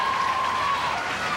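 Spectators at a 1983 Coke Handicap boys' bowling final cheer and applaud in a steady, fairly loud wash of clapping and crowd noise, with a held tone running through it.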